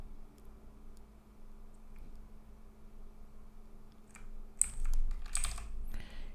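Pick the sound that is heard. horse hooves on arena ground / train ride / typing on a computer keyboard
typing on a computer keyboard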